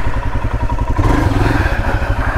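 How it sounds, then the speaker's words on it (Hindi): A motorcycle labours up a steep, rough off-road trail on the way to Panikot Lake, its engine a loud, steady rumble with pulsing revs and some clatter throughout. "ये देखिए मनीष की बाइक"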